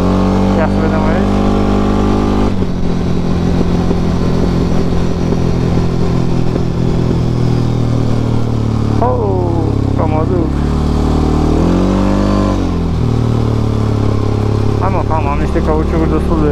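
A car engine revs hard on a cold, partly icy mountain road at night, loud and close throughout, with rising and falling pitch sweeps as the driver throttles through drifts, and a voice talking over it.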